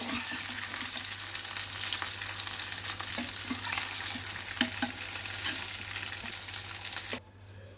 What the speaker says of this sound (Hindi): बाकी की मछली को भी हम ऐसे ही फ्राई कर लेंगे।